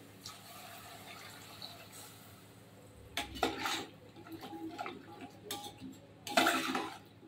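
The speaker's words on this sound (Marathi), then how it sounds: "आता यामध्ये पाणी घालून घेते" Water is poured into a metal pan of kohlrabi bhaji, with quiet pan clatter and short splashing bursts near the end, the last one the loudest.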